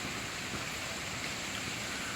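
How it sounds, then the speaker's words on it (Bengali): Steady rain falling on a city street after days of muggy heat, a dense, even hiss of drops that holds at a moderate level with no voices. "বহু প্রতীক্ষিত বৃষ্টিটা নেমেছে।"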